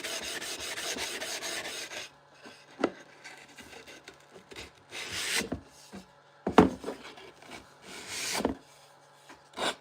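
Hercules eighth-inch round-over router bit shaping the edge of a wooden cutting board, heard as a sustained rasping whir at first, then intermittent bursts of scraping and rubbing at close range.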